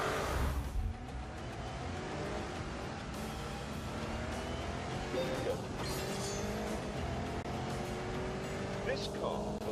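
An Alpina car runs on a track in The Grand Tour video game, with a steady engine drone and rising gear tones under continuous talk, plus occasional tire noise.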